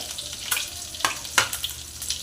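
Egg curry masala with ground spices frying in a pan on low heat gives a soft continuous sizzle with a few sharp stirring scrapes spaced through it.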